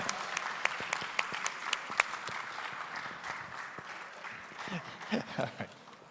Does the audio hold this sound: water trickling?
no